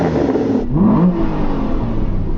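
An Aston Martin Vantage 4.7 V8 revs loudly, close up, in one sustained rising and falling run with mechanical whir and no talk, during a sound check before a drag race.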